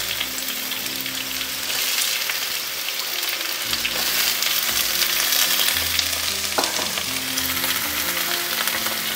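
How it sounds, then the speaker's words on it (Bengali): Ridge gourd pieces fry in a pan over a medium-low flame for mung posto, a vegetarian Bengali dish: a steady, close sizzle with a crackling hiss that continues without a break and with no talk. "এইভাবে ঝিঙেগুলোকে একটু ভেজে নিতে হবে"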